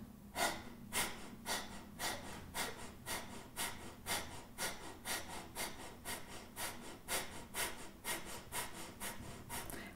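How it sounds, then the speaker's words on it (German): Deep rhythmic breathing during a morning yoga exercise, around twenty steady breaths drawn in and pushed out in a quick regular pulse, close and fairly soft with no talking. "Atmet einmal ganz tief ein. Und ganz tief raus."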